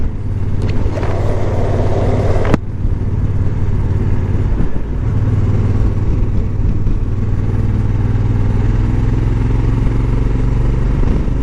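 A Honda NT 1100 motorcycle riding along and accelerating, with a steady loud engine drone and wind rumble heard close from the rider's position, with no talking.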